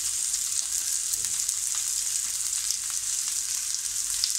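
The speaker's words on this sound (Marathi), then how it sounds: "त्यासाठी आपल्याला थोडं तेल त्यावर टाकलं आहे मी आणि कांदा भाजून घेते" Sliced onion frying in a little oil in a pan, giving a steady, bright sizzle that holds close and even, with faint scraping of stirring now and then and no talking.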